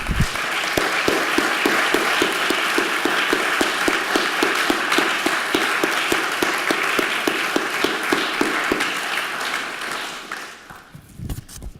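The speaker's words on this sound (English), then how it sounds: "please stand so that we can all applaud your service and signal our appreciation" An audience honoring military veterans breaks into steady, dense applause that holds strong for about ten seconds before tapering off at the end.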